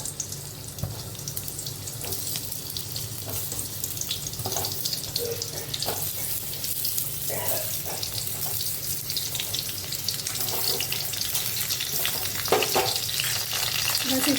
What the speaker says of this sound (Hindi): बस इसको हिलाते डुलाते ऊपर नीचे करके और सारे परवल जो हैं फ्राई कर लेंगे।